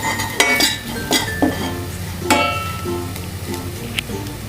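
Masala for a prawn fry cooks on low flame while a utensil stirs it through the pan, giving a soft sizzle broken by scraping strokes and light metallic clinks against the pan.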